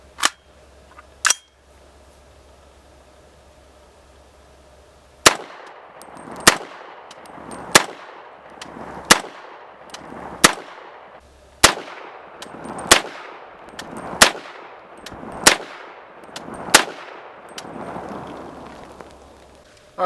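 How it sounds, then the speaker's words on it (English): Subsonic 7.62 rifle rounds fired without a suppressor, a series of loud, sharp cracks, two early shots and then a steady run at roughly one-second spacing, each trailing off in a brief outdoor echo. "we're going to shoot 5 rounds of subsonic without the suppressor"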